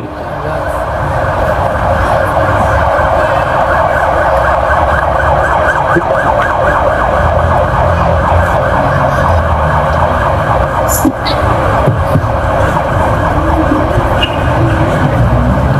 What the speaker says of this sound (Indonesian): Ambulan ya, ya kita hormati ambulannya.